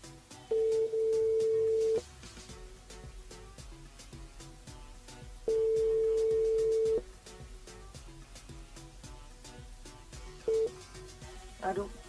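A telephone ringback tone repeats during a call placed to a radio listener, with long steady beeps separated by pauses, heard faintly under background music with no talking.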